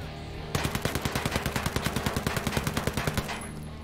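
A UMP submachine gun fires in the Ghost Recon Breakpoint video game, giving one loud close burst of about twenty evenly spaced rapid shots that lasts under three seconds and then rings out.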